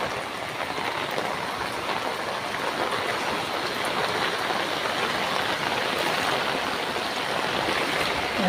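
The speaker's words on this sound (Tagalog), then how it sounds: "Ayan, sobrang lakas ng agos ng tubig." Fast, heavy floodwater from Typhoon Aghon rushes through a swollen river in Pila, Laguna, in a steady, loud roar that never lets up, a dense wash of noise with no voices.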